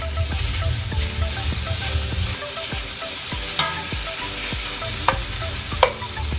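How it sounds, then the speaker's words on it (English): Bacon, a whole 12-ounce package, sizzling and crackling steadily in a pan with occasional clinks and scrapes of stirring, close and alone with no talking. "let's get some bacon going"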